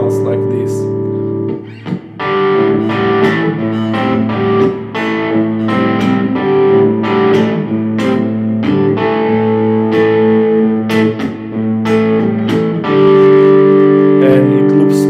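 An electric guitar with distortion and effects plays a riff, a steady looping run of picked power chords and notes, loud and continuous with no talking.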